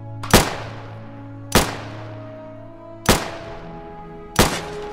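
Four single gunshots from target practice in the video game Unturned, evenly spaced about 1.3 seconds apart, each a sharp loud crack with a decaying tail over a steady low in-game hum.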